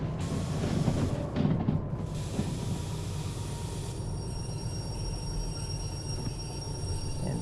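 A diesel locomotive in the Derail Valley train simulator rolls along with steady rumbling wheel and engine noise, a brief louder clatter early on, then settling into a constant hum as it slows, with no talk.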